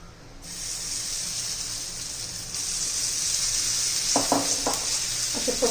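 Oil hisses and sizzles on a hot tawa griddle, a steady bright hiss that grows louder partway through, with a few short scraping or spreading clatters near the end and no talking.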